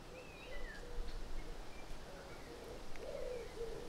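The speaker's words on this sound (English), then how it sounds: "That's a wood pigeon we can hear in the distance." A wood pigeon coos softly from a distance in an English back garden in May, its low hooting phrases repeating over a gentle breeze and faint rustle.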